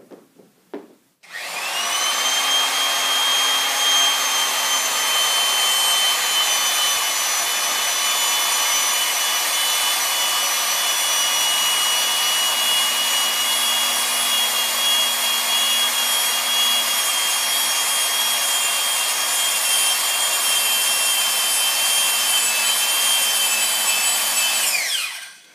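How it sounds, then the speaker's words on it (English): A RIDGID 700 hand-held power drive threads a pipe with a die head, giving a steady, loud mechanical whirr and grinding that runs continuously for about 24 seconds before stopping. "We're going to use our open palm to apply pressure directly to the die head to get the thread started."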